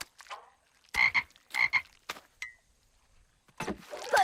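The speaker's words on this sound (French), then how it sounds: "Bonne chance, les grenouilles." Cartoon frogs croaking in a series of short, resonant bursts, several croaks in uneven rhythm with pauses between, close and clear with little else around them.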